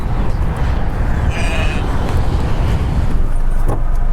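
Car driving along the roadside near villages in the Najd region, a loud, steady rumble of engine and tyre noise filling the cabin, with a faint voice briefly audible.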